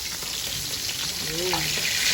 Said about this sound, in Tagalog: ako po yung nagpiprito na na itong isda